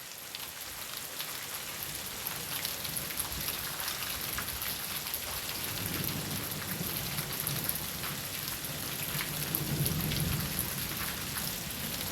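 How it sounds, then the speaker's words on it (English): Steady rain patters densely on surfaces throughout, with a low rumble of thunder rolling in during the second half. "So this is a rainy day"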